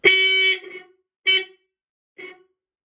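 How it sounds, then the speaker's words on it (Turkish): Three honks from a Dodge truck horn: a long loud blast, then two shorter ones, each fading into silence. "Bu korna Dodge kamyonun kornasıdır"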